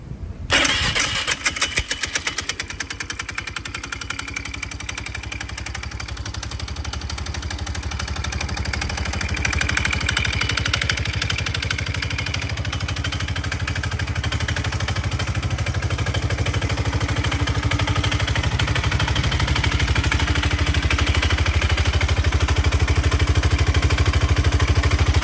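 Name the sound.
Polaris Sportsman 500 ATV engine idling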